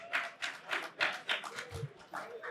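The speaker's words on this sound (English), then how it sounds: "Let's give him a round of applause" Audience clapping for Will of Rally at a VIP lounge event during a sports card convention in Chicago, a small group giving a handful of rhythmic, separate bursts of claps close by.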